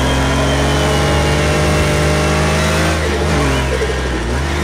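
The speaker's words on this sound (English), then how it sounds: "Oh my god, I love that blow-off valve. It sounds so good." A Porsche 959 in Project Cars 2 at Laguna Seca, its engine loud and close under sustained throttle, with a hiss from the blow-off valve toward the end.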